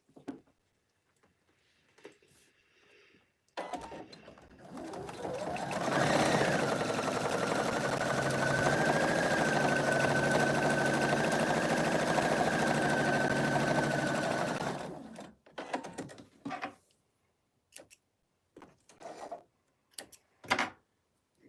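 A sewing machine top stitching a fabric stocking ornament closed, a steady close mechanical whir running about eleven seconds, with quiet handling noises before and after.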